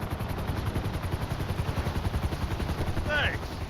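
A helicopter in GTA 5 Online flies with a steady, pulsing rotor chop and engine whine throughout, moderately loud, with a brief chirping effect near the end.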